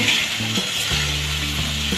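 Spices frying in a pan with Kashmiri chili powder, hot chili powder and a little sugar, a steady close sizzle with faint clicking and scraping throughout.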